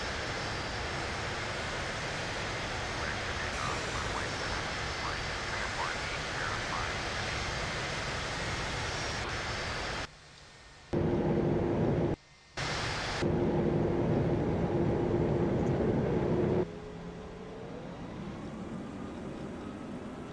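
An airliner in Singapore Airlines livery takes off in a flight simulator, a steady, dense engine roar with a sustained tone, briefly cut out twice, then easing to a lower hum.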